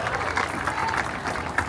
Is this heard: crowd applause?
yes